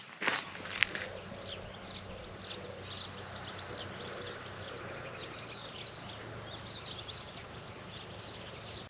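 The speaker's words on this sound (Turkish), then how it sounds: "Kuş cıvıltıları, kuş sesleri çok güzel geliyor." Birds chirping faintly in the distance over steady outdoor ambience in a village near Burhaniye, Turkey, with a soft thump near the start.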